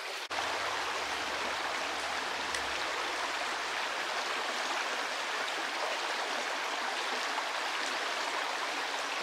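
A tiny mountain stream with brook trout flows steadily and close by, a dense, even rush of water that holds constant throughout with no talking.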